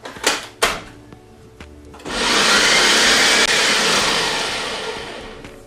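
A blender churns a chocolate kale smoothie with chia seeds, fruit and vegetables: two sharp clicks, then a loud, steady whirring motor that runs on without a break.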